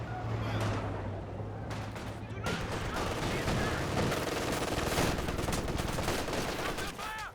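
Machine gun suppression fire in Company of Heroes 2: rapid rattling bursts and distant gunfire crackle continuously, mixed with battle noise and occasional voices.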